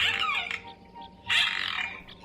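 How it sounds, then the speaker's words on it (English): A Mute Swan, Cygnus olor, gives two harsh, nasal calls, each a brief rough honk or squawk, fairly close and alone in quiet surroundings. "the Mute Swan, Cygnus olor"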